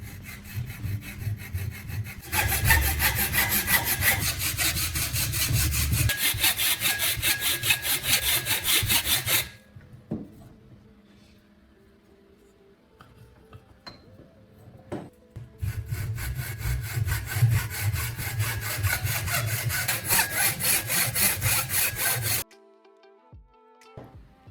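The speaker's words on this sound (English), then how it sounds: "Add a bit of oil to your handsaw, then cut one end of the block at a 45-degree angle." An oiled handsaw cuts a wooden block at a 45-degree angle in two long bursts of loud, rhythmic rasping strokes, with a quiet pause between them filled by faint taps and handling.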